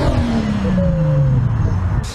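A Nissan V6, likely a VQ-series engine, revs at a Sunday car meet in a Lille car park, its pitch falling steadily in one long sweep over a constant low rumble, close and loud with no talk.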